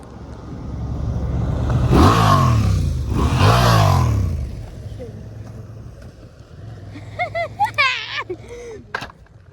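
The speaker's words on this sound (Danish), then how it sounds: "der kommer motorcykler" On a mountain-bike outing, two motorcycles pass close, one after the other, as loud rising-and-falling engine roars. A voice speaks near the end.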